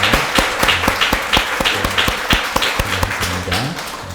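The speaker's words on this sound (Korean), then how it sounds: "두 분 같이 일어나실 때 우리 환영의 박수 하겠습니다" A church congregation at a Sunday service claps in welcome for a visiting pastor and his wife, with dense, steady applause from a large crowd that continues throughout.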